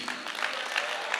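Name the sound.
audience applause during a business talk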